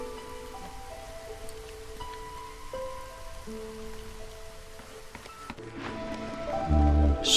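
Steady storm rain in the video game Against the Storm hisses evenly beneath soft game tones and chimes, building to a louder burst near the end.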